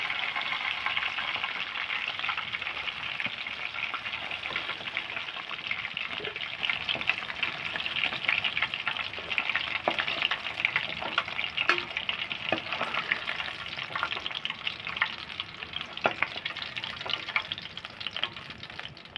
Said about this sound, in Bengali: এবার ভেজে নেবো মাছটা